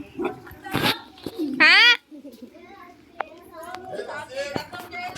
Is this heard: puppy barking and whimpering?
yes